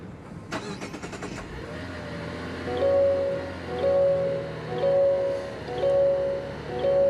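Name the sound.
2024 Mazda CX-90 inline-six engine starting and running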